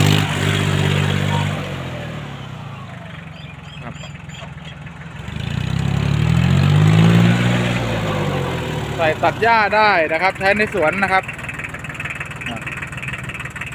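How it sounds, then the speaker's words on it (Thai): A Kubota L1802DT tractor with front loader bucket runs at its lowest idle, a steady low diesel chug close by, while someone talks over it for much of the time. "อันนี้เราไม่เร่งเครื่องนะครับ อันนี้เดินเครื่องรอบเบาสุดนะครับ"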